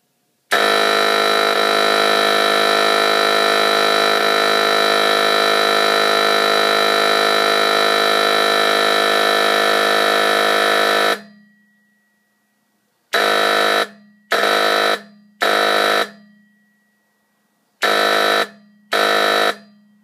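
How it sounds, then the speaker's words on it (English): A Honeywell Q43-3A3CK1 fire alarm horn running on 24 volts DC sounds one long, loud, steady blare. After a pause it gives two sets of three short blasts, close up with no talking. "it looks like a 4030, but it actually runs off of 24 volts DC, which I've never seen a horn like this before"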